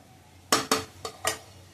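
A metal lid set down on a cooking pan while making fenugreek leaf bhaji, four sharp clattering knocks in quick succession, close and alone in a quiet kitchen.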